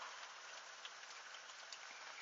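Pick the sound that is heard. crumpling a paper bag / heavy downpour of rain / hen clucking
heavy downpour of rain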